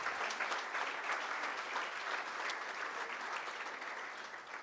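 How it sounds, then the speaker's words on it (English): Steady applause from a conference audience at closing, a sustained wash of clapping that holds level and then fades slightly toward the end. "let's give her another round of applause"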